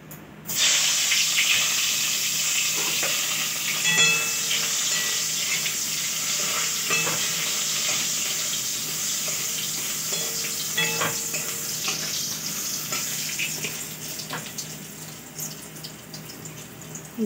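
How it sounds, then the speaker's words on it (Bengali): Eggplant pieces frying in oil in a pan, a steady close sizzle with occasional spatula scrapes and stirring clicks, continuous and without talking. "এই যে বেগুন ভাজছি।"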